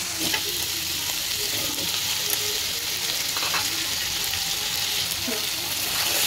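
Prawns fry in a pan with a steady, dense sizzle, while a spoon stirs and scrapes through them in scattered clicks, close and continuous from start to finish.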